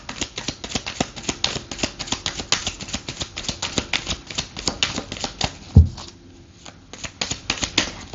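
Tarot cards are handled and turned over nearby, making a quick series of crisp papery flicks and snaps with a single dull thud partway through. No one speaks.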